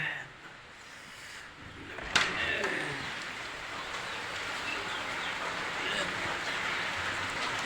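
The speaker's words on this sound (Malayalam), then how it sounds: "പുറത്ത് മഴയാണ്" Rain falls steadily outside a home in Kerala, a soft even hiss with one brief knock early on, under a speaking voice.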